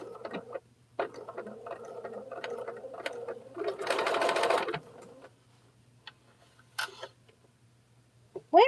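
A home sewing machine stitches a quarter-inch seam through fabric pieces for a bag, running in short bursts of fast, close mechanical whirring with pauses and a few small clicks between.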